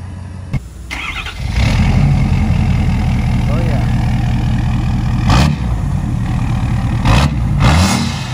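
A 6.7 pickup truck engine cranks and fires, then settles into a loud, steady diesel idle close by, with brief bursts of speech over it.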